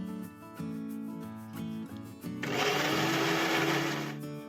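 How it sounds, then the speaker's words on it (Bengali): An electric blender grinds ginger, tomato and chili into a paste, its motor whirring in short stuttering bursts before a louder, sustained roaring grind, close by. "এখানে আদা টমেটো লঙ্কা নিয়েছি, এটাও পেস্ট করে নেব"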